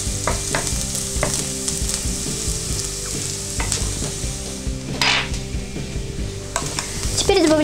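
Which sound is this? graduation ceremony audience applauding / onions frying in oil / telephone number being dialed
onions frying in oil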